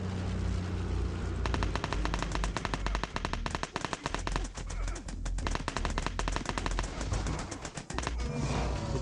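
Rapid, dense Uzi gunfire from Battlelands Royale, a mobile battle royale game, rattling in long continuous bursts with brief gaps, loud and close, over faint background game sounds.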